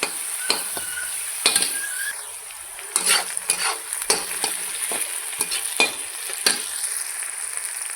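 Onion, garlic and ginger fry in a pan for a mixed vegetable dish, with a steady sizzle under scattered, irregular scrapes and clinks of a spoon against the pan, close and fairly loud, with no talking.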